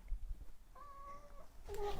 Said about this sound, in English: Don't meow at the door and then not come in.